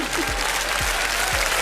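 Steady applause from an audience at a performance by a ukulele duo, a dense even patter of claps with a few low thumps underneath, continuous and fairly loud throughout.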